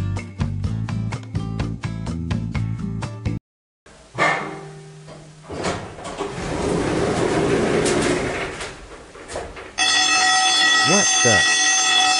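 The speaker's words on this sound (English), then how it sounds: "Fire alarm, fire alarm." A fire alarm in an elevator setting blares loud and steady near the end, following music and a noisy, chaotic stretch with voices.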